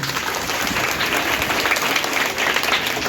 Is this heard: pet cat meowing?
no